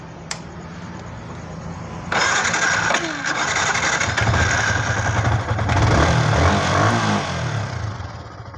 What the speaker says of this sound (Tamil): இப்போ நம்ம ஸ்டார்ட் பண்ணி இன்ஜின் நாய்ஸ் எப்படி இருக்குன்னு செக் பண்ணலாம்.